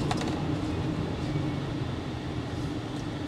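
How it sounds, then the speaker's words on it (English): A 2022 Porsche Cayenne braking hard after pulling away from a red light in sport mode, heard from inside as a steady low rumbling whoosh of road and brake noise, fairly loud and even, with no voices. "Almost like an airplane when you hit the brakes, the sound that it makes."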